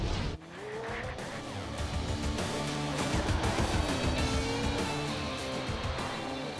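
Jaguar F-Pace SVR with a 542-horsepower supercharged V8 drives hard, its engine roar loud and continuous with tire squeal and shifting pitch sweeps, no talk.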